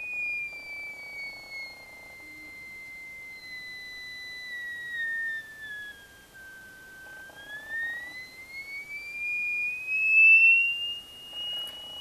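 A steady pure electronic sine-wave tone from an audio oscillator sustains throughout, its pitch sliding slowly downward and then rising again as a potentiometer is turned, with faint background noise.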